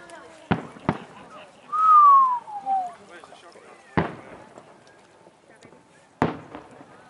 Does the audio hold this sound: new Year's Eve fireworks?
yes